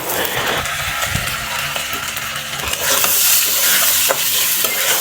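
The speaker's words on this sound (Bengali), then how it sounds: "জল ঝরিয়ে রাখা চাল ডাল দিয়ে ভেজে নেব" Drained rice and moong dal frying in a pan with chopped ginger and panch phoron for vegetarian khichuri make a loud, dense sizzle with stirring scrapes and clinks, growing brighter halfway through.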